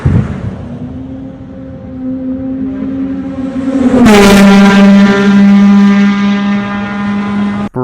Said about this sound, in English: let me just show you guys a clip of the R9 flying by with the Yoshi exhaust